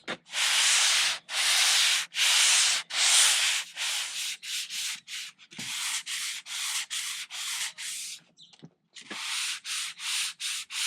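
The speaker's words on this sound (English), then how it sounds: "Then more sanding and more fairing, rinse and repeat." Fairing compound being sanded on a Grady-White boat transom during a rebuild, a steady run of raspy power-sander strokes in close bursts with short pauses between, loud and alone without talk.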